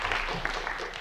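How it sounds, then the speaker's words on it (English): A brief stretch of audience applause, a dense patter of clapping at moderate loudness with no one speaking. "Let's give a warm round of applause for Max."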